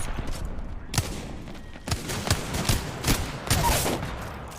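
Rapid bursts of gunfire from an aim-trainer shooting game, several sharp volleys clustered over a few seconds at moderate loudness, with no talking.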